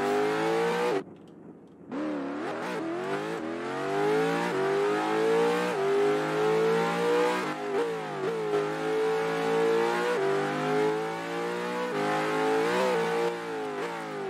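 A Corvette C8 engine in a racing game revs hard through rising gear pulls, loud and continuous with a brief dip between shifts, alone without talk.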